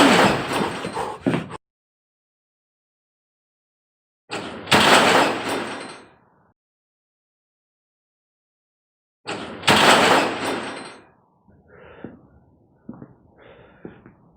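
A door in a reportedly haunted house scrapes and crashes in three loud, close, noisy bursts separated by silence, followed by a few fainter knocks and rattles.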